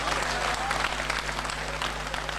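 Loud applause from a mushaira audience in Bhiwandi, dense steady clapping filling the hall for a couple of seconds with no speech over it.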